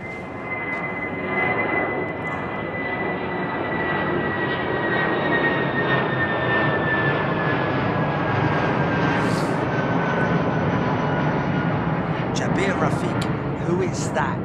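A jet airliner taxiing and departing at London Heathrow Airport, a loud, steady roar of engines with a slowly falling whine, heard up close for the full length, with people talking over it.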